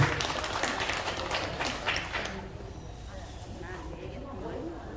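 Applause at a mountaineering club gathering rattles as dense, loud clapping for about two seconds, then fades into quiet room murmur.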